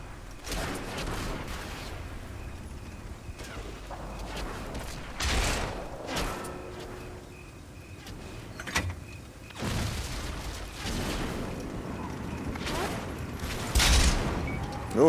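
Tank cannons fire in World of Tanks on Xbox One: three heavy booming shots spaced several seconds apart, with mechanical clanks and rumbling battle noise continuing between them.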